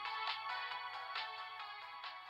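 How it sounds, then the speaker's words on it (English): A phone ringtone plays continuously in a bright, tonal repeating pattern with regular pulses, fairly clear and alone, with no voices over it. "The piercing ringtone became more and more distant before it vanished completely."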